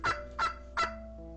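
A turkey gobbles three times in quick succession, each a loud rattling burst followed by a fading tail, used as a sound effect in a children's audiobook, with no talk.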